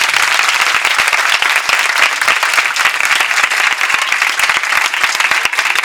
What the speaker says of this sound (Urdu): تواڈیاں تالیاں تے بڑیاں تھکیاں